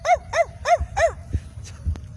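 A person imitates a dog barking, giving four quick, evenly spaced bark-like yelps up close, followed by quieter scattered sounds.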